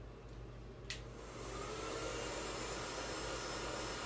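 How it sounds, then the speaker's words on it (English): A hair blow dryer runs steadily through a styling session, a loud continuous whoosh close by that swells a little after a brief click near the start, with no one talking. "you're not going over sections that you already touched with your blow dryer"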